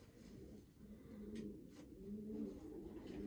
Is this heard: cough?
no